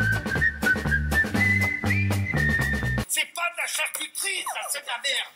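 A whistled melody from a 1970 recording, loud over a full orchestral backing for about three seconds, then breaking off into brighter, busier accompaniment.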